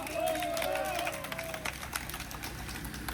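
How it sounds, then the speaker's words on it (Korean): A crowd at an outdoor rally calling for a second airport's construction applauds, dense scattered clapping and cheering at moderate distance, with a voice speaking over a loudspeaker at the start. "여기에서 동의하시면 큰 박수 부탁드리겠습니다."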